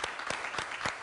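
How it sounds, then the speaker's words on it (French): A short burst of steady applause, many hands clapping together at a moderate distance. "ça s'applaudit, ça s'applaudit."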